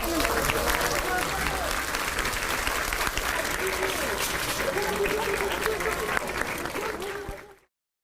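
Sustained applause greets an official leaving office on the last day after resigning from public service, dense clapping from a gathered crowd that holds steady for several seconds and then cuts off abruptly at the end.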